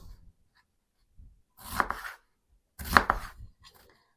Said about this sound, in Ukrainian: а тим часом наріжемо цибулю